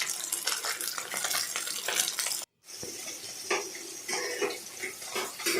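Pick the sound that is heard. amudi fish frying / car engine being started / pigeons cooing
amudi fish frying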